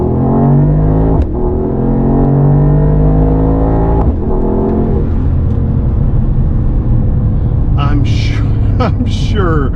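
A Mercedes-AMG GT55 engine rumbles and revs loudly from the cabin while driving, with rising and falling tones across gear changes, a brief lull, then higher-pitched bursts near the end.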